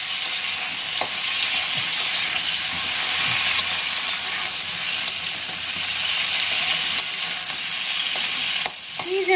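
Cauliflower frying in a pan with a steady loud sizzle and hiss, broken by occasional scrapes as the pieces are stirred; no one speaks.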